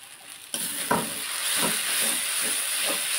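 A spice paste of ginger, garlic and turmeric for chicken sizzles in a hot pan, a sudden steady hiss that breaks out and keeps going with soft bubbling pops, close by and with no talk.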